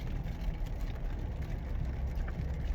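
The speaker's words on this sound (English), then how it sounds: "Looks like we're getting some rain coming through" Steady rain hissing over a car driving through Pigeon Forge, a constant broadband wash with low road and engine rumble underneath, moderately loud inside the cabin with no talk.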